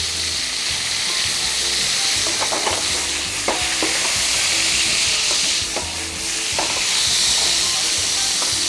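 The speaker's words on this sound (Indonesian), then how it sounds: "Kita diamkan sebentar, kita tutup lagi supaya minyaknya tidak lompat-lompat." Chicken pieces with crisping skin fry in hot oil for Indonesian ayam rica rica, a dense, constant loud sizzle and hiss with occasional sharp pops and spatters, no voices.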